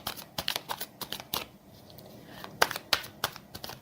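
Tarot cards being shuffled, with soft papery flicks and riffles in irregular clusters, close and quiet, a pause midway before more snaps.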